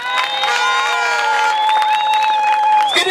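A church congregation applauds and cheers continuously, a dense wash of clapping with high whoops and voices rising over it throughout.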